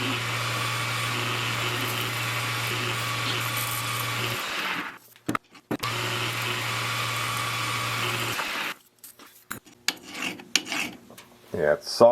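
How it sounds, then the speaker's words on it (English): A ceramic insert cutting tool scrapes steadily through a hardened metal area in a continuous rasping cut. It stops briefly, resumes, then gives way to scattered clanks and handling noises. "I've got a new edge on my ceramic insert, and I'm going to use that to take off the hardened area."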